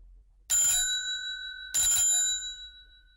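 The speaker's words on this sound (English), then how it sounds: "Then suddenly she ran across the road and rang Holmes's doorbell." A doorbell rings twice, two bright metallic chimes about a second apart with a lingering ring-out, close and clear against near silence.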